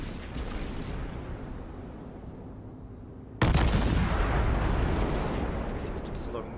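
Warship main guns firing in World of Warships, a continuous deep rumbling roar of gunfire that jumps to a sharper, louder burst midway and keeps booming; someone talks over it.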